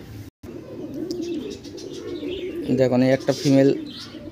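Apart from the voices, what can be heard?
pigeons cooing, female patta pigeon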